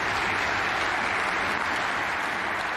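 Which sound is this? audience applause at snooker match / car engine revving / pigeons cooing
audience applause at snooker match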